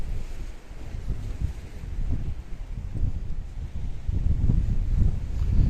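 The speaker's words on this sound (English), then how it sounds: "it's a little bit breezy" Gusty breeze along the Paphos harbour coastline buffets the microphone in a low, uneven rumble that swells and eases, strengthening toward the end, with no speech.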